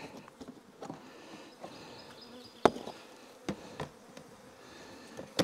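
Honey bees buzz steadily around a brood frame with nurse bees during hive work, a close, continuous hum with occasional knocks and clicks of handled equipment.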